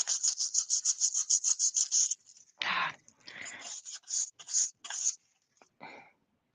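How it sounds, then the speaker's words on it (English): Sandpaper rubbed by hand over a 3D-printed part, a quick run of about a dozen close, even rasping strokes, then slower, irregular scrubbing passes with short pauses between them. "I think I need a new piece of the sandpaper."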